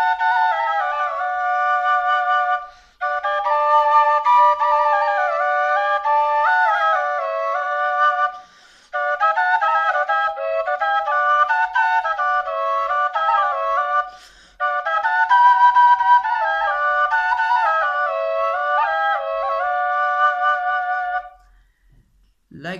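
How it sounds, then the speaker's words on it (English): A double flute built with a drone pipe plays a sustained, reedy two-voiced melody with a steady drone under it, broken by three short pauses and continuing unaccompanied for over twenty seconds. "So double flute sounds like this."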